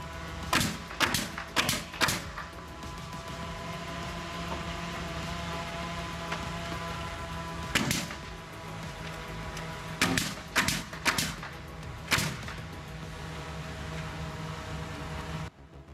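A framing nail gun toenails 3-inch by 0.131-inch nails, firing loud, sharp bangs in quick clusters of three and then two, over a steady background hum.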